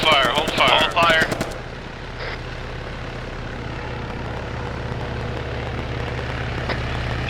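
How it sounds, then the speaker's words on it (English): Machine gun fire and aircraft engine noise in a military video game session, rapid bursts of gunfire up front fading into a steady droning rotor-like engine hum, with voices heard briefly. "Enough with the damn chopper."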